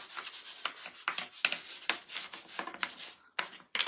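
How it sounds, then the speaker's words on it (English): Sandpaper rubbing back and forth over a wooden Easter bunny tray being distressed by hand, a run of short rasping strokes in an uneven rhythm, close and fairly quiet. "This is just a little bit of sanding paper"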